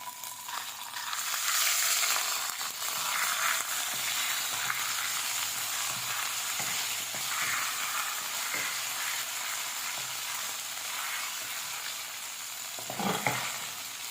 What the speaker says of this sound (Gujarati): એમાં આપણે મરચાની પેસ્ટ 1 ચમચી સાંતળી લઈશું।